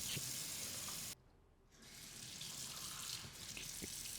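Tap water runs steadily over plastic parts of a LifeStraw Studio water dispenser being rinsed at a sink. The flow cuts off briefly, then resumes with a softer, splashing rush.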